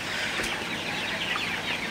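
Sonali hybrid chickens cluck steadily against a constant wash of heavy rain, with no talking.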